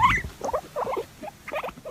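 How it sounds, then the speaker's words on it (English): A guinea pig being tickled gives quick, high squeaky chirps in short bursts, close and fairly soft, with no talking. "Some other animals seem to find certain things funny, especially being tickled, like this guinea pig."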